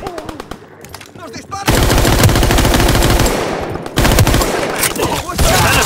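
Heavy, sustained automatic gunfire in the Call of Duty WWII war mode, loud and close, with rapid bursts running nearly continuously and a brief lull before resuming, a shouted voice faintly underneath.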